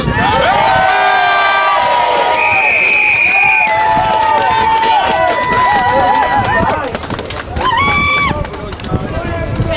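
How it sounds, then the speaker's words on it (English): A crowd at the Corby "Axe the Bedroom Tax" demonstration cheers and shouts loudly, with high whoops rising above the din before it eases off near the end. "So bear with them, support them, and cheer them on, please."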